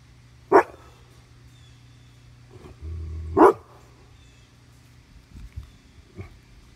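A dog guarding a yard barks twice, loud and close, a few seconds apart, with a few softer low sounds in between and afterward.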